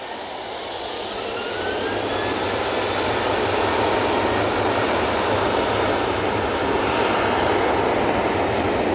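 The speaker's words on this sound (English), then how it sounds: "This plain Jane Tui 737 is now off to Fuerteventura." A plain-liveried TUI Boeing 737 jet departs Manchester Airport for Fuerteventura, its engine roar swelling over the first two seconds into a loud, sustained broadband rush with a rising whine. No one speaks.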